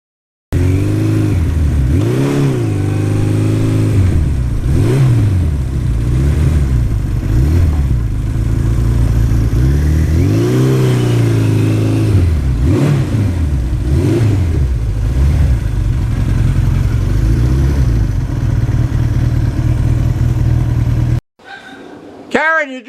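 A 1982 Suzuki GS1100E motorcycle with 74,000 miles rides steadily, its engine note loud and close, rising and falling through gear changes over continuous road and wind noise, before cutting off near the end.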